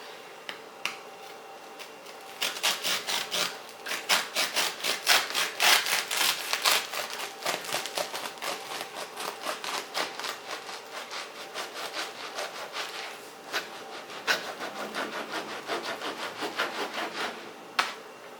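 A knife saws through a warm loaf of freshly baked bread in a home kitchen, with crisp, rhythmic rasping strokes, close and fairly quiet, going on steadily with brief pauses.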